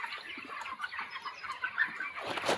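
Hens on a poultry farm cluck in soft, scattered bursts, fairly faint and close together, with a brief louder flurry at the end.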